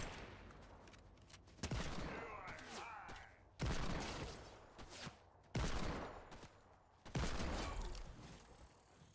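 Fortnite gunfire comes as four or five sharp, loud bursts spaced a second or two apart. Each crack rings out and decays, with some shattering debris after the second shot.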